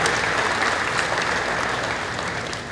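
Crowd applause at a livestock auction's sale of champions, continuous dense clapping close and fairly loud, tapering slightly toward the end.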